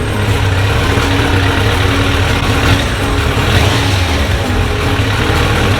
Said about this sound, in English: This engine sounds different than the other one, that's for sure. This one's got a little bit of a whine